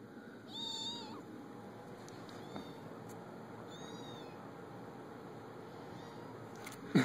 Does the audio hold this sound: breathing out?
no